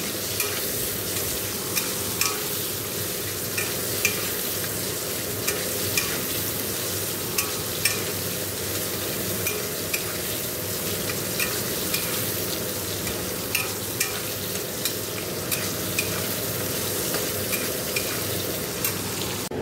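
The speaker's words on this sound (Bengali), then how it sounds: "এখন দেখো এখানে ভাজছি হচ্ছে পটল" Pointed gourd (potol) slices frying in oil in a pan in a home kitchen, giving a steady close sizzle with occasional sharp clinks from stirring, and no talk.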